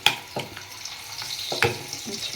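Fried tomatoes being mashed by hand in a hot pan for chutney, giving soft squelching presses and a steady sizzle, with a few sharper wet thumps spread across the short stretch.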